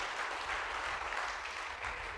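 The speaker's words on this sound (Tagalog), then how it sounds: "Yung malakas na palakpak para sa Holy Spirit" A church congregation claps together in a dense, steady patter of applause that carries on without pause, moderately near and fairly soft, with no speech over it.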